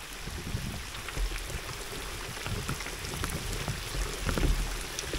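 A rain squall patters steadily on an open fishing boat at sea, a dense, even hiss of drops with occasional heavier splashes and no voices.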